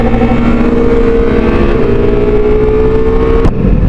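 A Ducati Multistrada V4S motorcycle cruises in sixth gear at about 90 km/h with a slight shudder, its engine drone loud, steady and close, with a brief change near the end.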